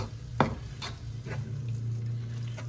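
Tomato stirred into fried onions in oil in a pan, with a soft sizzle under a low hum and a few scattered scrapes and taps of a spoon, no talking.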